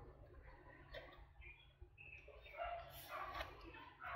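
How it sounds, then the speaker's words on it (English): A dog barks faintly somewhere outside, a few distant yips over a steady low hum indoors. "That dog barking is not mine, that's outside somewhere"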